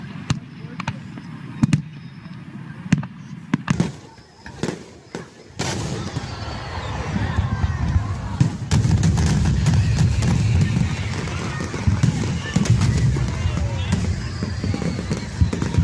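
Sharp firework bangs and crackles pop repeatedly, some close and loud, over a steady rumbling background with people talking.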